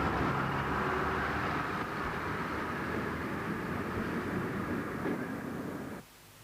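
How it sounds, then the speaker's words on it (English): A fifth-scale miniature steam locomotive, a replica of a 19th-century Denver and Rio Grande 2-8-0, runs with a steady loud rumbling roar of wheels and mechanism that cuts off abruptly near the end. "This is Old Rube, a 5th scale replica of a 19th century Denver and Rio Grande 280."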